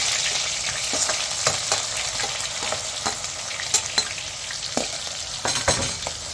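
Onions frying in hot oil in a kadai after seasoning seeds, a steady close sizzle with crackling pops and occasional stirring scrapes, no voices.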